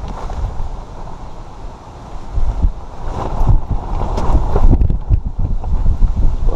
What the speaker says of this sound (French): le vent s'engouffre dedans